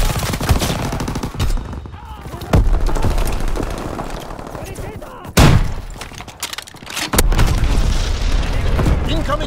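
Enemy artillery pounds the battlefield in Call of Duty WWII, with heavy booming explosions and crackling machine-gun fire coming in loud irregular bursts, while voices speak over the din.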